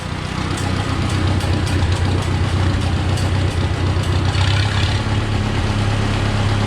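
A straight-piped tractor engine runs steadily at idle, a loud, close, continuous low rumble with an even throb and no voices over it.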